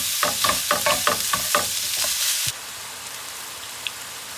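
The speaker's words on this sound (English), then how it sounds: "I'll cook this for about like 5 minutes or till the meat is completely brown" Ground beef browning in a pan, with a run of rhythmic stirring scrapes over a steady frying sizzle for the first half, then a quieter, even sizzle alone with one faint tick near the end.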